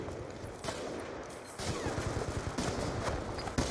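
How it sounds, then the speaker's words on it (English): Rapid video game gunfire from bots, a dense crackling fusillade of shots throughout, fairly quiet and continuous, with bursts growing stronger in the second half. "No, stop shooting at me!"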